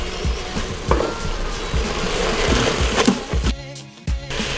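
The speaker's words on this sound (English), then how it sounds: "I'm just gonna take a scoop of this pre-minced, toss it in, and give it a stir" Pre-minced garlic stirred into beef browning in an Instant Pot: a steady sizzle with scraping spoon strokes and soft clunks, close and moderately loud, with a brief break near the end.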